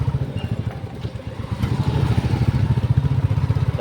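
A Bullet motorcycle on a morning ride: a steady, thumping single-cylinder engine beat close by, with a low pulsing rumble that swells slightly partway through.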